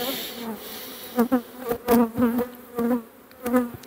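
Honeybees at an open hive during a spring apiary inspection buzz close to the ear in repeated loud bursts, wings droning and flaring in pulses over a quieter steady hum.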